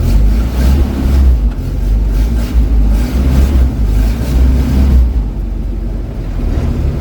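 A 1953 Willys Overland pickup, on its first drive in 47 years with a transmission that slips in and out of gear, pulls back up a hill. The engine makes a heavy low rumble throughout, partly buffeted by wind noise on the microphone, with no talking.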